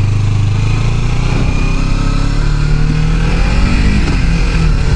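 A Honda CTX motorcycle being ridden, with a steady, loud engine drone and wind rush that hold throughout, with no talking.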